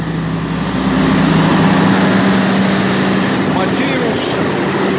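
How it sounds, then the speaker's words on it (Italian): A Magirus Deutz V8 engine runs steadily nearby with a loud, even droning hum and mechanical whine, holding constant throughout. "oggi vi porto a vedere un motore 8 cilindri"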